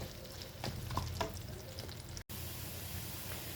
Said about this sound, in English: Add the ginger garlic paste and fry until the raw smell goes.